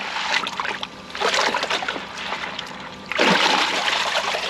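Koi pond filter media being rinsed in a bowl of water, with loud splashing and sloshing in two bursts separated by a quieter trickling pause, close up and with no voices.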